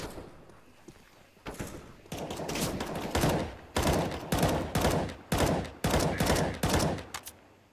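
Gunfire in the tactical shooter CS:GO rings out as a string of loud, sharp bursts with short gaps. Quiet at first, the shots then crack repeatedly close up for several seconds, with no voices.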